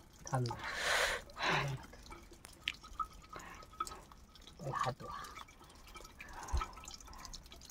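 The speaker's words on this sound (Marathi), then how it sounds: "तोंड बिंड धुत आहेत मस्तपैकी. गार पाणी आहे खूपच." Trekkers at Mahuli Fort splash cold spring water onto their faces in several brief, close bursts, with dripping and soft voices in the quieter gaps between.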